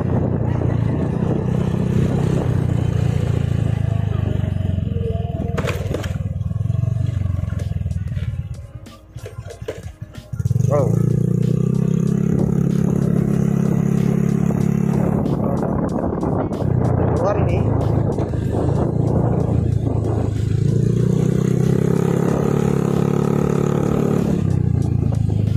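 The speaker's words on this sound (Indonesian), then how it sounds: "Knalpotnya ini cukup bagus ya" A motorcycle fitted with a cheap loud aftermarket RCB exhaust, riding past a campus, gives a deep, rumbling drone that dips briefly, then returns strong, with talking over it.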